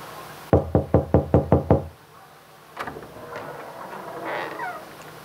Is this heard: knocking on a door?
yes